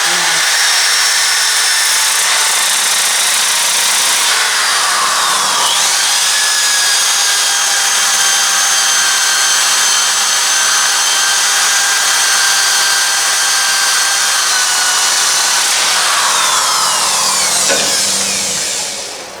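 A power sander with 80-grit sandpaper whines loudly and continuously while sanding a wooden bowl, its pitch dipping and rising briefly a couple of times.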